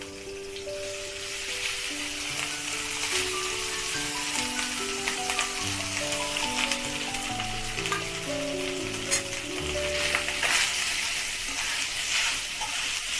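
Rice tips into a hot pan of cumin, curry leaves, chili and asafoetida and is stirred, giving a steady close sizzle and scraping under a continuous music bed, with no talking.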